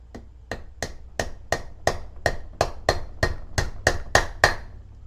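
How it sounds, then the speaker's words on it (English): Hammer tapping an axle shaft seal into place on a 2008 Cadillac Escalade's front passenger side, with about thirteen sharp, evenly spaced metallic knocks that grow slightly louder toward the end, close up and with no talking. "We'll give it a little tap."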